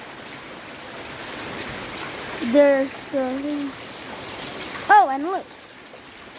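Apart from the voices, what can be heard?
raindrops falling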